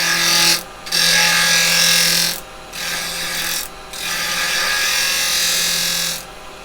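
A wood lathe spins while a carbide chisel cuts a tenon on a workpiece, producing loud bursts of rough, buzzing cutting noise over a steady motor hum, separated by several short pauses where the tool lifts off.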